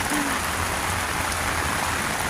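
Steady rain falling on a garden with hostas and a filling rain bucket, a continuous close hiss of drops with no voices.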